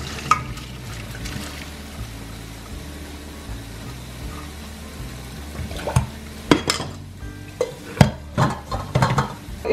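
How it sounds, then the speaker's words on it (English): Cooked pasta is drained in a kitchen: low clatter of a pot, then several sharp knocks and bursts of pouring, splashing water over the last few seconds. "we're going to move and we're going to drain out the pasta"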